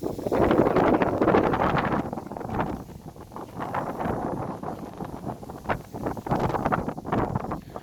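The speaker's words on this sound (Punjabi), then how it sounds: "ਹਵਾ ਬਹੁਤ ਚੱਲ ਰਹੀ ਹੈ" Strong wind sweeps across open farm fields where irrigation pipes are being laid, roaring and buffeting the microphone in loud, uneven gusts with no voices.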